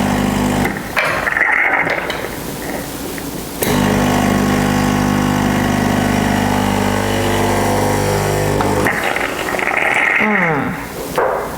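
A Cosmo X1 espresso machine pump runs in a steady mechanical hum while flushing plain water through the group head during cleaning, cycling on and off with short pauses between bursts.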